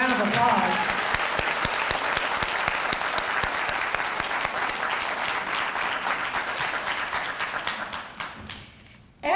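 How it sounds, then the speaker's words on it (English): A school district spelling bee audience gives the spellers sustained applause, dense steady clapping that fills the room, then tapers off and fades near the end. "Let's give all of our spellers a big round of applause."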